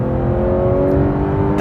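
A Porsche 911 GT3's new direct injection engine, which revs to 9,000, holds a loud, steady, high-pitched whine close by for a brief moment.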